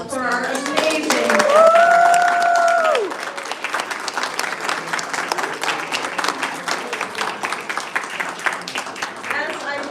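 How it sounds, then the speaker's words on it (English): An audience claps after an Irish quartet's free concert, a dense, sustained patter of many hands, while an announcer speaks over the start of the applause. "another round of applause for our amazing."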